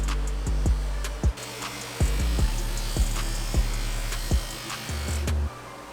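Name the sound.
buffing wheel polishing an RM250 part with compound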